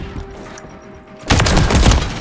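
Bursts of gunfire in a shooter video game erupt suddenly after a quieter stretch, loud and dense rapid shots filling the remainder.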